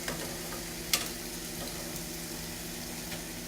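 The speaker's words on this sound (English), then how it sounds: "So we're gonna let this cook. We're gonna just stir this pasta." Spaghetti simmering in a pan is stirred for a carbonara frittata, a soft continuous sizzle with a sharp scrape or clink near the start and faint spoon movements afterward.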